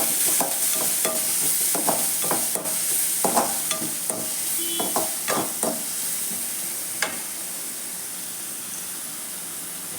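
Chopped shallots sauté in a hot pan: close spatula scrapes and clinks over a bright hissing sizzle, strokes thinning out until only the steady frying remains.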